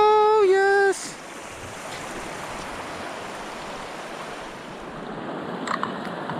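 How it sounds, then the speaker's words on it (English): A river rushes steadily beside the Great Divide Trail, a constant broadband roar of moving water heard close by. A short whistling tone sounds at the very start, then the water carries on alone. "that's the river"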